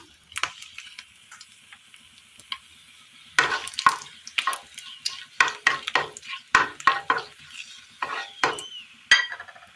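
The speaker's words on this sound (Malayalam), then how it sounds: "ഇനി ഇതിലേക്ക് ഒരു 4 വറ്റൽമുളക് ഇട്ട് കൊടുക്കാം." Four dried red chillies drop into hot oil in a Kerala vegetable curry pan, with a faint sizzle under sharp scraping and stirring clicks of a utensil against the pan, sparse at first, then busier and irregular.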